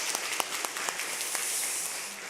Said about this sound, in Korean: 우리 방송 사역하시는 분들께 한번 격려의 박수 주시겠습니다